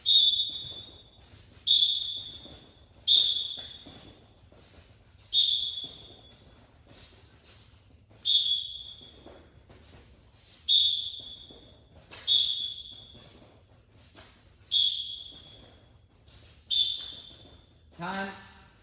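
A wrestling coach blows sharp whistle blasts at regular intervals, about nine short shrill bursts each trailing off, with faint background movement between them.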